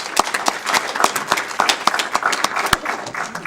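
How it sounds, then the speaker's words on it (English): Short burst of applause in a Federal Way City Council meeting chamber: a modest group clapping at a brisk, uneven pace, moderately close, lasting a few seconds with no talk. "Let's give them a big round of applause."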